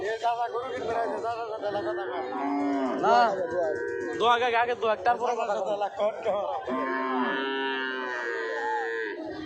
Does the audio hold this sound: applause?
no